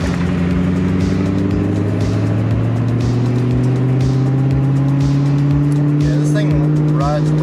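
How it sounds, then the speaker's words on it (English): A stock 2003 Cobra's engine held at full throttle, loud and close with a steady droning roar and a rising whine, while people talk over it inside the car. "full-on throttle in a Cobra, and it's your Cobra"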